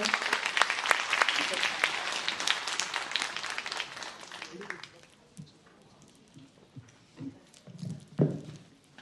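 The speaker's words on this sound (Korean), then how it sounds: "박수로 맞이해 주세요" An audience at a Korean co-parenting anniversary academic conference applauds to welcome a speaker, with dense clapping for about five seconds that then thins into scattered claps and faint shuffling.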